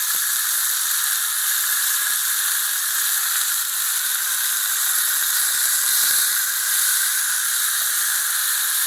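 Turkey berries fry in a pan with chili, tamarind and curry leaves, giving a steady close hiss and sizzle that continues evenly throughout.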